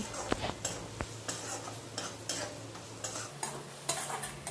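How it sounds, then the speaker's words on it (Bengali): Spice paste being stirred and fried with a metal spatula over a medium-low flame for a Bengali potol (pointed gourd) dish, with repeated scraping strokes against the pan over a soft steady sizzle, close up and no talk. "এবারে খুন্তি দিয়ে খুব সুন্দর করে নেড়ে ছেড়ে এই মশলাটাকে মোটামুটি 2 মিনিট খুব ভালো করে একটু কষিয়ে নিতে হবে"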